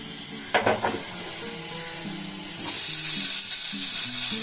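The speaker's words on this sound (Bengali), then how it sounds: "তা এখন এগুলোকে আমি দিয়ে দেবো তেলের মধ্যে।" Boiled potatoes and tomato tipped into hot oil, a few clattering knocks followed by a loud, steady hiss of frying that swells sharply partway through and holds close, with no talking.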